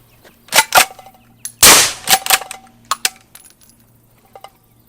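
A straight pull 6.5 Creedmoor rifle with a 3D printed Radical Firearms Sinter suppressor fires one loud muffled shot at a range, with crisp metallic clinks from the action and brass dropping before and after.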